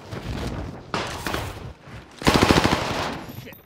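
Gunfire in the video game Call of Duty Warzone Pacific: bursts of rapid automatic shots, with a dense, loud volley in the second half over steady game ambience.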